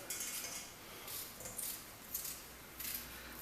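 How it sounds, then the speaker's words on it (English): A knife cuts through a potato on a board while preparing shepherd's pie, giving quiet, crisp slicing and scraping strokes in a few quick bursts, close but faint with no talking. "just cut your potato like this. You can see how quickly it is for me with a knife"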